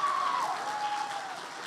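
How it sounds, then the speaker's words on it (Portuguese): Women in a church congregation applauding during a sermon, a soft, steady patter of clapping heard at a distance, with a faint tone running underneath. "As mulheres estão aplaudindo,"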